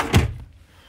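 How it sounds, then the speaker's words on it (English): A large storage drawer under the kitchen refrigerator of a 2008 Sunnybrook fifth-wheel RV shuts with one short, close, fairly loud thunk, and the sound dies away quickly into quiet. "This is a big storage drawer underneath."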